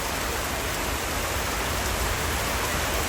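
Steady, dense rain falling at Gabtoli cattle market, a constant hiss of water with no pauses or other sounds standing out.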